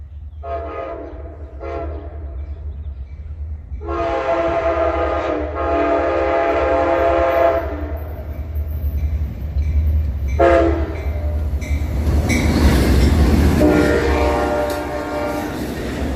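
An Amtrak Dash 8 locomotive blows its K5LA multi-chime horn in several long blasts while passing, with the heavy rumble of the train rolling underneath, loud and close outdoors.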